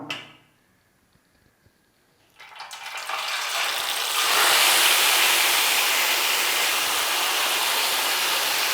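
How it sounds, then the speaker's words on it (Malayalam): A whole chicken with green masala drops into hot sunflower oil after a near-silent pause, setting off a sudden loud sizzle that swells into a steady, intense frying hiss. "അതിനകത്തോട്ട് നമുക്ക് നമ്മുടെ ചിക്കനെ ഇട്ട് കൊടുക്കാം."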